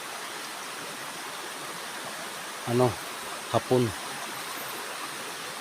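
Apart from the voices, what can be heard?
river flowing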